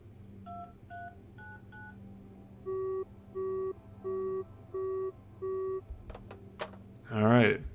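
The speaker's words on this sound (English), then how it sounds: "All right, busy signal." Phone dialing in the video game The Final Station: a run of keypad tones, then five evenly spaced busy-signal beeps, ending in a short burst of noise.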